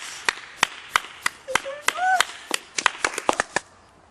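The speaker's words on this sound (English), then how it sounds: "That deserves an applause." Scattered audience clapping follows a spoken call for applause, with about a dozen sharp, separate claps at a steady pace, fairly close and moderately loud. A brief voice-like tonal sound runs under them midway.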